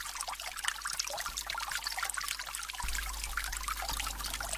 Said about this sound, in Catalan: Oh, quina font més maca.